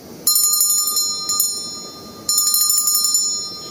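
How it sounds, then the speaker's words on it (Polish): Two loud bursts of bright, rapid jingling bells on shoes, each ringing for over a second before fading, with a short pause between them. "a jego buciki głośno dzwoniły"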